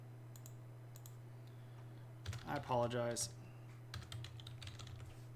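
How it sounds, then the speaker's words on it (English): Bursts of clicky computer keyboard typing sound up close at the start and again toward the end, with a man's short spoken phrase in the middle over a low steady hum. "I don't know what I'm typing."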